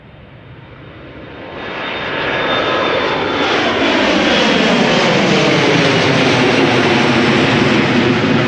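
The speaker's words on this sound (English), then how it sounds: "Embraer 175 to Stavanger is now rolling." An Embraer 175 on its departure roll, engines spooling up into a loud, sustained roar that builds over the first seconds and then holds steady and close, with no one talking.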